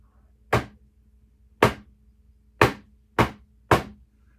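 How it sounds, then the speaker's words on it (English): Five sharp, separate hammer blows smashing messy papers for a junk journal, fairly close and evenly spaced about a second apart, each a crisp thwack with a quick decay and nothing else around it. "Then I'm going to take my hammer"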